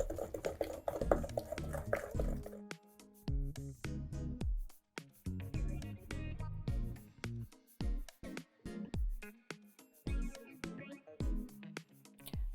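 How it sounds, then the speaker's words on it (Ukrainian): Eggs being stirred one at a time into honey cake (medovik) batter, giving repeated short clinks and scrapes of a utensil against a bowl in uneven bursts, close and fairly clear, with no speech over it. "зараз ми з вами будемо додати по одному яйцю, ретельно помішуючи"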